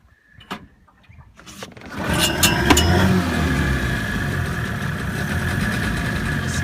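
A 2007 Mercury Sea Pro 25hp outboard coughs to life on a pull start after a quiet lead-in, then holds a steady, buzzing idle up close.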